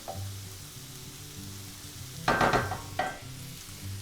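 Two tablespoons of butter melting in the center of a pan of mushrooms for a vegetarian stroganoff: a low, steady sizzle that swells into a louder, crackling burst midway, then settles back. No talking.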